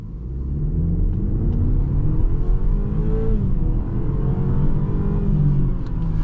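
The entry-level engine of a 2023 BMW X4 30i revs up as it pulls away from a green light and accelerates, a loud steady roar rising in pitch, with no talking.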